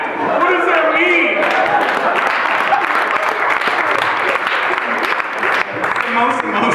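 Audience at a comedy roast breaking into loud, sustained applause, dense clapping mixed with cheers from the crowd, nearly unbroken for several seconds.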